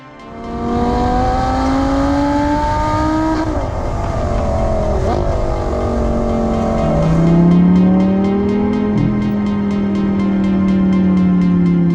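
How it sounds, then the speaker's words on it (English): A Lamborghini Gallardo LP570-4 Super Trofeo Stradale V10 revs high, screaming through rising and falling pitches, loud and close, with gear-change dips and a throaty, wailing exhaust note throughout. "Favorite thing about the car is the sound exhaust note coming out of this car."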